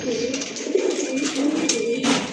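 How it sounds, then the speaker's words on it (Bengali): Black Mukhi pigeons coo in soft, repeated low calls close by, with some background rustle. "এখানে কিছু মুখী কবুতর দেখতে পাচ্ছেন ব্ল্যাক কালারের ভিতরে, খুব ভালো কোয়ালিটি সম্পন্ন কবুতর।"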